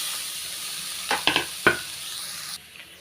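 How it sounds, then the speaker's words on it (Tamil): Grated carrot sautés in ghee in a pan, a hissing sizzle with a few quick spoon scrapes near the middle before the sizzle suddenly drops quieter. "கேரட் பாருங்கள் லைட்டாக வதக்கியாச்சுங்க"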